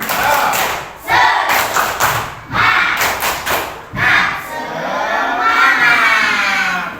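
A classroom of children claps the rhythmic 'tepuk semangat' pattern together, with loud, close bursts of clapping in quick groups, followed by the children shouting and chanting in unison.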